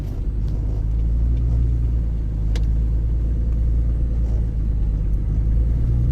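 A big truck pulling a trailer drives along a sandy road, its engine a steady, loud low rumble that holds constant throughout, with a brief rattle or clunk partway through and no talking.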